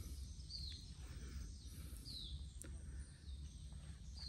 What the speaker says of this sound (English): Great bird noises.